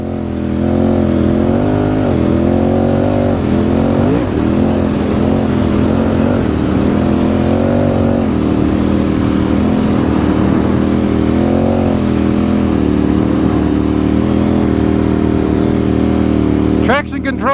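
A motorcycle on Motoz Tractionator Adventure tyres rides across beach sand dunes, its engine droning loudly and steadily with rising and falling revs close by, wind noise throughout, and a voice talking over it.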